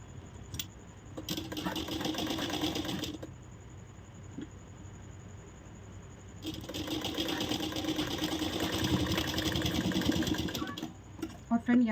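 A sewing machine stitches a blouse in two long whirring runs separated by a pause, close and steady, with someone speaking softly in between.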